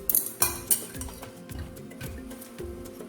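A spoon stirs macaroni in a metal pot, giving a few loud sharp clinks at the start and then a steady run of softer scraping and tapping, close and alone.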